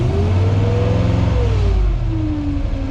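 The engine of a 1998 Chevrolet 3500HD rollback truck, a hard starter, idles close by and is raised with a throttle lock, its pitch rising smoothly and then easing back down in a steady hum.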